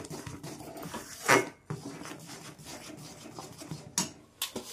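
Peanuts stirred with cardamom powder for peanut chikki, a close, steady scraping and rattling of nuts against a pan with a few louder knocks.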